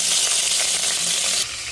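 Steady, loud hiss of pork sizzling in hot oil in a cooking pot, continuous throughout with a slight drop in intensity near the end; no voices.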